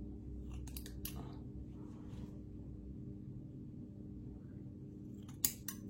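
Scissors cut through a LIDL sheet face mask, a few quiet crisp snips near the start and again near the end over a soft room hum.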